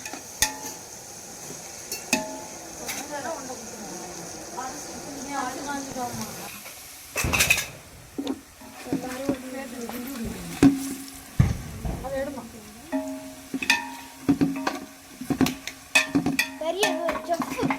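Masala sautéing in a pan for home-style mutton biryani: a low sizzle under clattering spoon scrapes and knocks against the pot, growing busier and louder in the second half, heard up close.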